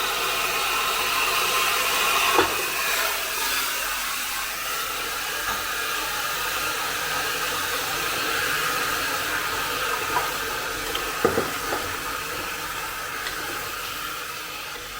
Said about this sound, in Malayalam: ഞങ്ങളുടെ വിനാഗിരി തിളപ്പിക്കാൻ വെച്ചിട്ടുണ്ട്, അതിൻ്റെ തിളയ്ക്കുന്ന സൗണ്ടായിട്ട് നിൽക്കുന്നു.